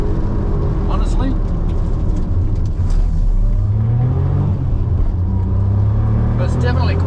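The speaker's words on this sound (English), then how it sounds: "That's just rolling in neutral. You can hear it? I think it's that wheel bearing, honestly." A Suzuki Cappuccino rolls in neutral with a noisy wheel bearing, giving a continuous low road rumble and hum inside the car, while people talk over it throughout.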